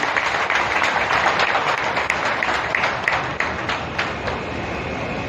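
A crowd applauds Delhi's chief minister at a DTC bus flag-off event, a broad, even roar of clapping hands lasting throughout and easing slightly toward the end.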